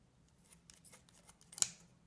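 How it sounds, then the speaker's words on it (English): Scissors snip through a piece of raw meat for a homemade torn noodle stir fry, giving one sharp, close cut near the end after a few quieter rustles. "the reason I use the scissor today is because this piece of meat is the only meat items I'm going to cut"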